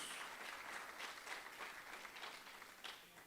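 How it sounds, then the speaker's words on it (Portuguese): A church congregation claps loudly for Jesus, dense sustained applause from many hands, heard from a distance and fairly quiet, with no talking over it. "Aplauda Jesus bem forte."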